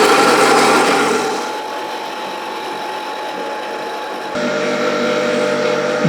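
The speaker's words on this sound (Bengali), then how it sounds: "দর্শক, আমরা মেশিনটি চালু করে দিলাম এবং এই যে বাদামগুলো সেটা আমরা হপারের মধ্যে ঢেলে দিলাম" A peanut butter making machine running as peanuts are poured into its hopper, a loud, dense mechanical grinding and rattling whir that drops slightly in level midway, then steps back up, with no talk.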